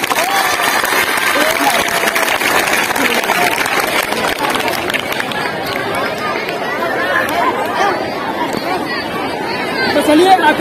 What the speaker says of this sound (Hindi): इनके लिए ताली मारिए।